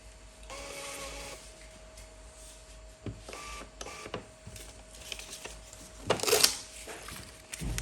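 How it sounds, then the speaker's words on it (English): An Xprinter mini printer runs in short whirring, buzzing bursts with clicks and small mechanical knocks, close and fairly quiet, ending in a louder feed burst. "Printer again."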